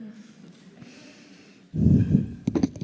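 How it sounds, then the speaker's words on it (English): Heavy breathing close into a microphone during a conference session, first a faint soft stretch, then loud, rough breaths and snorting puffs in the last second, with no words spoken. "heavy breathing down the microphone"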